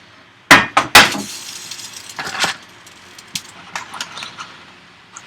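Drained bowtie pasta shaken in a colander and tipped back into a metal pan, two loud clattering knocks up front followed by lighter scattered clinks and taps, close and with no talking.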